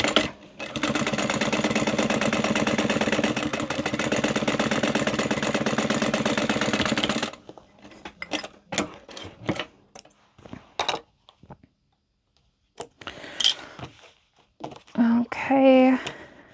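A sewing machine runs steadily for several seconds, top stitching the folded seam of a fabric wristlet with a fast, even mechanical whir, then stops abruptly. A voice talks quietly over scattered handling noises afterward.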